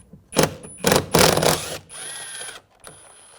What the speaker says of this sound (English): There's a screw in here, use a T30 socket.